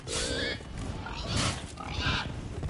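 Pigs on a farm grunt and oink in several rough, noisy bursts close by, filling the short stretch with little pause between calls.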